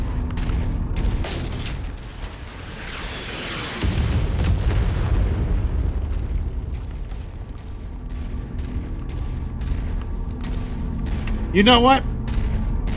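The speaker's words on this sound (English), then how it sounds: "I had no idea that there was going to be artillery" Artillery explosions in MechWarrior 5 rumble as a deep boom swelling around the middle, over steady mech-combat noise, with someone talking partway through.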